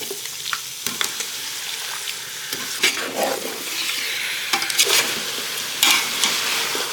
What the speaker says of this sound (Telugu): ఇలా నీట్గా కడిగి పెట్టుకున్న చికెన్ని ఇందులో వేస్తున్నాను.